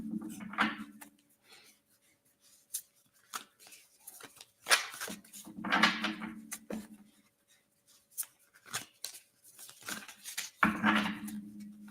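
Tarot cards are shuffled by hand in repeated bursts of riffling and sliding, close and fairly quiet, separated by short pauses.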